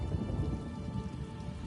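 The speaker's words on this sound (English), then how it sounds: "I could do without this damnable rain. It's been storming since we arrived, and it shows no sign of letting up." Rain and thunderstorm ambience from The Elder Scrolls Online video game: a brief, quiet, steady wash of rainfall with a low rumbling undertone and no speech.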